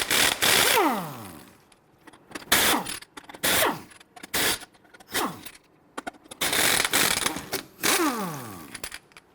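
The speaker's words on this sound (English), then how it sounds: "I want to go ahead and loosen and remove your lug nuts." Ratchet turning a 19mm socket to loosen and remove lug nuts on a 2006-2010 Hummer H3 during a rear wheel bearing job. Loud, close bursts of rapid clicking come in several separate runs with short pauses between them.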